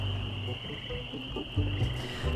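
Frog croaks from the Woodtick area of the video game Monkey Island 2, short low blips repeating over a steady ambient hum and background music, fairly quiet, with no talking.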